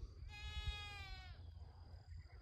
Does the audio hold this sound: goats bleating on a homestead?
yes